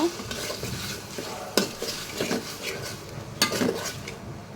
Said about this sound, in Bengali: তো এখন আমি মশলাটা ভালো করে কষায় নিব